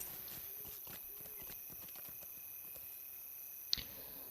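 Horse hooves clip-clopping in a steady rhythm in the Lord of the Rings Online game, with one brief sharp click near the end.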